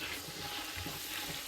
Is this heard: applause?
no